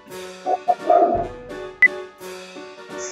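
A dog barks in a few short, sharp bursts at close range, with another dog nearby, spaced irregularly across a quiet indoor moment.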